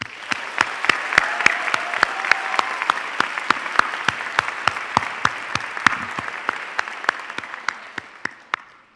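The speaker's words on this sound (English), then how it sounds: "And a round of applause for our PhD graduates" Applause for PhD graduates at a Temple University School of Pharmacy graduation ceremony: a steady wash of audience clapping with sharp individual claps standing out, sustained for about nine seconds before tapering off.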